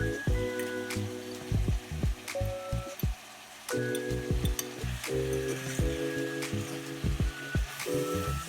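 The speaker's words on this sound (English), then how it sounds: "Saute your vegetables for a few minutes before adding the fish." Vegetables sizzle steadily in hot coconut oil, with repeated sharp scrapes and knocks of a utensil stirring the pan close by, and no talking.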